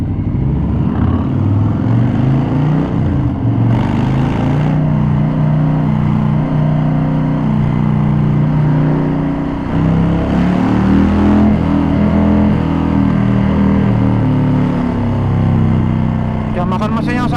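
2020 Harley-Davidson FXDR 114 with a Milwaukee-Eight engine, a loud, close engine roar that repeatedly climbs and falls in pitch as it revs and pulls hard.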